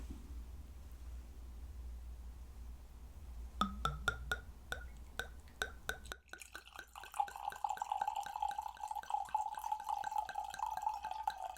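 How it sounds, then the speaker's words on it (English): Wine poured from a bottle into a glass: a few sharp glass clinks and drips, then a steady gurgling stream rising in pitch as the glass fills, close and quiet with no talking. "Let me pour you the first glass."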